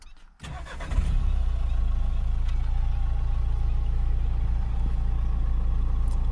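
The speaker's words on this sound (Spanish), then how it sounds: "Después vamos a arrancarlo, que es, como digo, automático." A 2019 Nissan Qashqai engine cranks briefly and catches, then settles into a steady, close, even idle that holds without talk.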